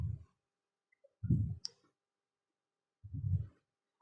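Knife slicing onions lengthwise for onion vadai, three separate soft cutting thumps on a board, close and quiet with silence between strokes.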